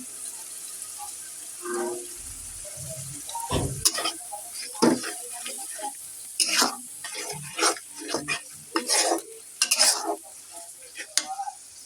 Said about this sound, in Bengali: এই দেখেন আমার শুটকি বাগারটা